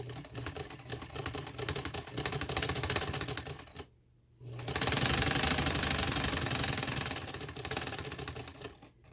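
Sewing machine running fast, stitching a double row of stitches over a previous seam on a garment neck design, a steady close mechanical clatter in two long runs with a short pause between.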